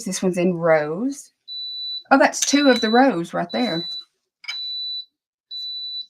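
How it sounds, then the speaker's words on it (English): A small clothes iron gives repeated high, thin beeps at a steady interval, a short pulse each time, heard between and under a woman's close speech. "Sorry for the beeping. That's my little iron telling me it's going off."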